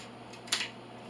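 A single short, crisp cut through a cardboard toilet paper roll trimmed to about two inches long, a quick close burst against a quiet room with no talking.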